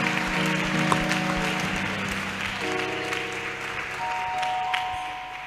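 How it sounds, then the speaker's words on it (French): Audience at a French-speaking teen camp session applauds a girl for a correct answer: steady, sustained clapping from a crowd across the whole span, fairly loud and near, with no talk over it. "acclamons pour elle, vraiment"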